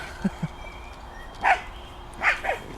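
A small dog gives a few short, high yelps and whimpers close by, spaced out across a couple of seconds, with quiet background and no talking.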